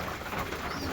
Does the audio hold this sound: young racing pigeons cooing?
yes